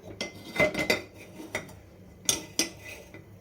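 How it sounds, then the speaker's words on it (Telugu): A spoon stirs oil in a cooking pot on a lit stove while mango stew is being made, giving a few scattered metallic clinks and scrapes, close and fairly quiet, with no talking. "ఈ నూనెని ఒకసారి బాగా కలుపుతాం"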